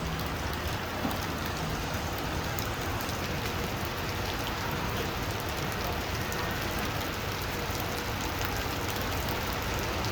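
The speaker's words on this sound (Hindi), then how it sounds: "बहुत तगड़ी बारिश हो गई है।" Heavy rain pours steadily at a bus stop on the way from Bangkok to Koh Samet, a dense continuous hiss of drops hitting surfaces, with no voices heard.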